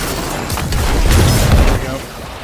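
A rocket launcher firing and a booming explosion in the video game Destiny 2, loud and close, a dense rumbling blast swelling in the middle and fading out.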